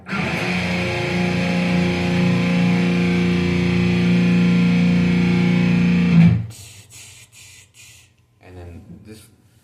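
A heavily distorted electric guitar chord from a riff rings loud and sustained for about six seconds, then cuts off abruptly into quieter muted scratches and a few faint clicks.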